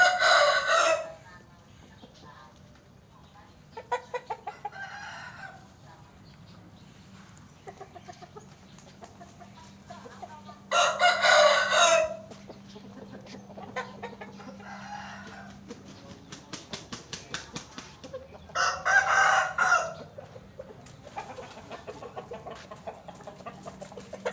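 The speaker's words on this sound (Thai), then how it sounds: "นี่ผมพาดูซุ้มที่ เลี้ยงไก่นะครับ ไก่ที่ออกชนที่เราเลี้ยงมาไปตีนะครับ" Fighting roosters in a coop crow loudly in three long bursts, with scattered clucks and small rustles between them at close range.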